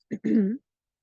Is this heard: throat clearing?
yes